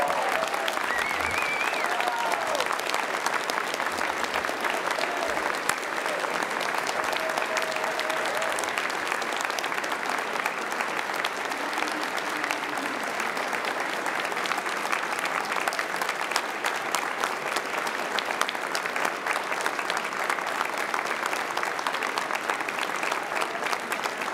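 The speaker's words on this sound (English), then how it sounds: "Audience, how about a full round of applause for the candidates?" Audience at a 2017 NDP leadership debate in Victoria applauds the candidates, a long, steady wash of dense clapping from a sizable room, sustained evenly without talk.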